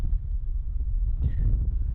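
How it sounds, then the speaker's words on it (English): Strong wind buffets the microphone with a constant low rumbling roar, gusting throughout without pause. "listen to that wind"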